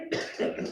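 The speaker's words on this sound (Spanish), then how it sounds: "Perdón, la tos" A short, close cough in two bursts, the second slightly stronger, with no talking around it.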